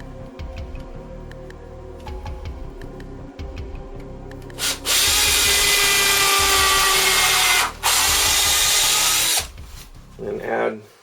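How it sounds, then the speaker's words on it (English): A power drill drives a screw into a wooden board while a DVD and game shelf is built. Quiet handling and rubbing come first, then two long, loud whirring bursts run close up, each ending abruptly, and a brief final buzz follows. "I actually just drill a little lower than the other screw"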